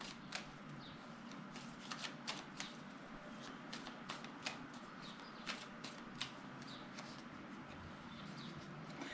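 Tarot cards shuffled by hand before one more card is drawn, a steady run of soft riffling and sharp slaps repeating close and clear, with no talking.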